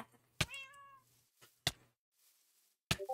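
A pet cat in Minecraft gives one clear, close meow followed by a few sharp clicks and knocks in otherwise quiet surroundings.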